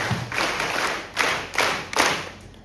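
Clapping from an audience at a gathering comes in four separate loud bursts spaced roughly evenly, each with a dull thump at its start.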